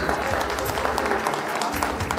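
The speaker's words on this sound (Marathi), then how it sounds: "खूप जोरदार टाळ्या वाजवायचा आहे आणि सरांचं स्वागत करायचं आहे" An audience at a tenth-standard alumni reunion gives a teacher a welcoming round of applause, dense continuous clapping throughout with some crowd voices mixed in.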